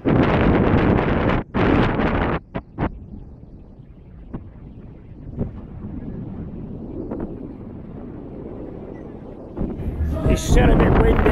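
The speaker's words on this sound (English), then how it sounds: "It's still a bit windy." Strong wind in Blackpool after Storm Kathleen batters the microphone in heavy, loud gusts that drop away abruptly, then return as lighter, intermittent buffeting before surging again at the end.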